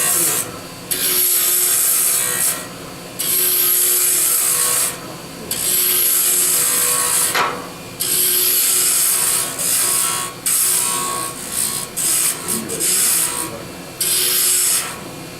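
Wood lathe roughing a wooden finial into a cone, a steady close scraping and rasping of the gouge on spinning wood, broken by short pauses between passes.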